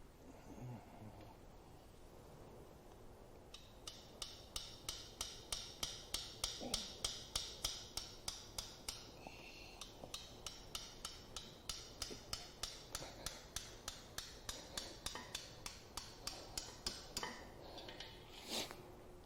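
Hammer lightly tapping a stuck exhaust manifold on a GM 3.6L V6 from an Acadia or Traverse SUV, a long run of about thirty sharp, evenly spaced metallic taps, close and moderately loud with no talk.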